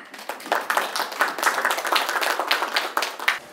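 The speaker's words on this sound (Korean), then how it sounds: "큰 박수로 모시겠습니다" An audience claps at the opening ceremony of a financial forum, a dense round of applause lasting a few seconds that swells and then tapers off, fairly close and loud, with no speech over it.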